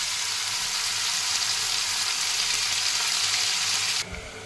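Meat fries lightly in a pan, a steady dense hiss of sizzling fat running evenly and close for about four seconds before dropping away abruptly, with no voices.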